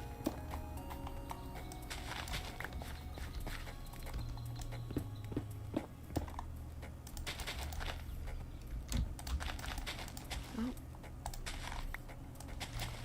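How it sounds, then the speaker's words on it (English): A computer keyboard and mouse click at a desk during a video game session, with scattered quick taps and clustered bursts of keystrokes, fairly faint over a low background hum; a voice briefly exclaims once. "My quiet mouse broke because my cat knocked it over, and my quiet keyboard is dead. So I apologize for the clicking."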